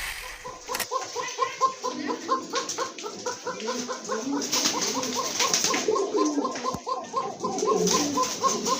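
A flock of pigeons kept for sale coos continuously in rhythmic, overlapping calls close by. The steady burbling fills the whole stretch.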